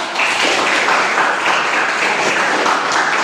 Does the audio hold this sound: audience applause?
yes